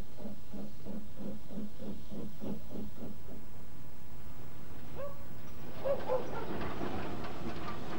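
Steam locomotive running on the Bluebell Railway line toward Sheffield Park, rhythmic chuffing beats at a steady pace, then hissing steam and a short whistle toward the end, heard fairly close and moderately loud.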